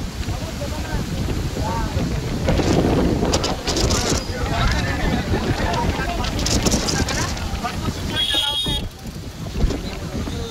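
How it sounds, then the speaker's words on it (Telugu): Strong wind roars over a rough sea, buffeting the microphone with continuous loud gusts and surf noise, while a person talks under the blustery rush. "విపరీతమైన సుమారు ఒక 20 కిలోమీటర్ల వేగంతో గాలి వీస్తున్నాయి."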